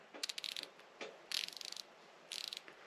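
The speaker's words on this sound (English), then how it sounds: "Here the ratcheting." Leatherman Surge multitool ratchet being worked by hand, giving quick bursts of sharp, close metallic clicks in three groups, each a rapid run of ticks with short pauses between.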